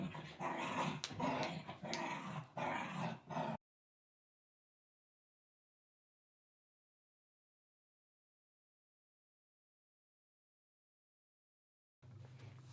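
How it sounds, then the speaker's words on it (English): A dog barks and growls close by for a few seconds, then everything goes silent, with a faint low sound returning at the end. "My dog starting barking."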